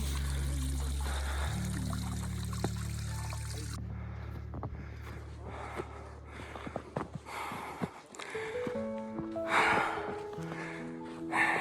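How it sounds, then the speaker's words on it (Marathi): Stream water flows at the source of Brahmatal lake on a Himalayan mountain trek, a steady close trickling and pouring wash that continues alone throughout, with no talk. "सोर्स ऑफ ब्रह्मताल, इथून पाणी जातं आहे ब्रह्मतालमध्ये."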